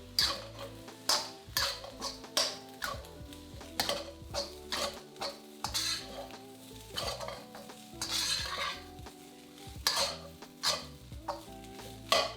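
Minced beef fried rice is tossed with soy sauce in a wok, a spatula scraping and clattering against the metal in quick rhythmic strokes about twice a second, over a faint sizzle and with no voices.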